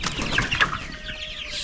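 Chickens and roosters clucking and squawking close by, several birds at once in a busy coop, with a steady background hum.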